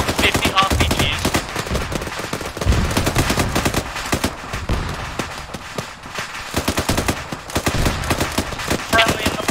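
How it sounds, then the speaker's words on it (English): Dense bursts of rapid gunfire and booming explosions from Arma 3 fill the clip continuously, loud and chaotic, with voices faintly mixed underneath. "There is so many explosions going on right now."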